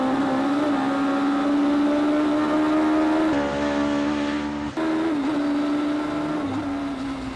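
A mini race car runs a timed lap on a circuit, its engine droning loudly and steadily close by, pitch rising and falling with gear changes and throttle, with no talking.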